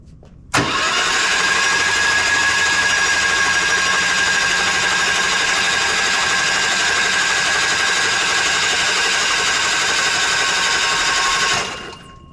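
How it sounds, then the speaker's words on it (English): A small engine just fitted to a homemade buggy cranks, catches and runs at a steady, loud drone for about eleven seconds before cutting off, with no talk over it. "So I can put that motor back in there and tighten her up, and let's see if it'll turn."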